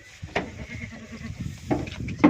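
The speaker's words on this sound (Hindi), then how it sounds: "हाँ यादर साहब ये 1 नंबर बकरा लोड करें" Goat bleating while being loaded onto a cargo vehicle at a goat farm in Chakwal: a sharp close bleat, then two more near the end over steady farmyard rustle and handling noise.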